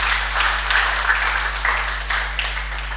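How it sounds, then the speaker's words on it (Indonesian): A church congregation claps in praise during a sermon; brisk, scattered applause from many hands, moderately loud with a steady low hum underneath, fading slightly toward the end. "Kasih tepuk tangan untuk Tuhan."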